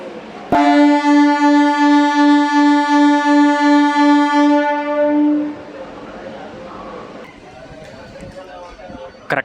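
An Anantapur–KSR Bengaluru MEMU train sounds a loud, sustained horn blast of about five seconds as it departs the station, followed by rumbling rail noise and station ambience as it pulls away.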